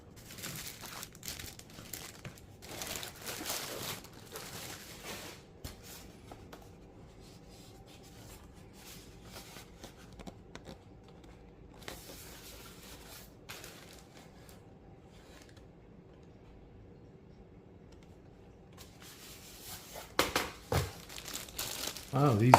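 Plastic wrapping crinkles and rustles as parts of a Freewing F9F Panther V2 64mm EDF RC jet are unpacked at close range. The handling comes in intermittent bursts, busier at the start and the end, and speech is heard in places.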